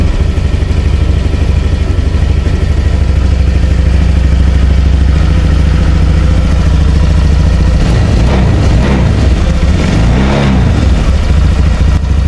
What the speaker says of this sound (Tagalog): Goods na itong unit ni Bossing mga boss, tahimik na tahimik ng makina.